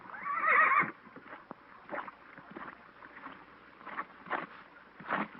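A horse gives a loud whinny at the start, then fainter hoof clops and scattered thuds follow in a quiet outdoor Western ranch setting.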